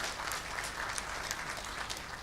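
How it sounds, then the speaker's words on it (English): Steady applause from a small group fills a meeting room at Muthaiga Country Club, even and continuous with scattered louder claps. "Could I just ask all of us physically in the room to give them a huge round of applause?"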